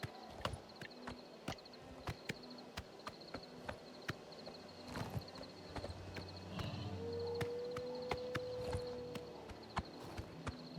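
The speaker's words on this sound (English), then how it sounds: "he just slow walked the horse out into their open field and just left it" A horse walks slowly in the video game Oblivion Remastered, hooves clopping in an irregular rhythm at close range, with a faint tonal game sound partway through and no talk.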